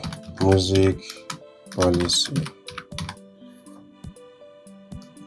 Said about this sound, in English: Then let's type in our text.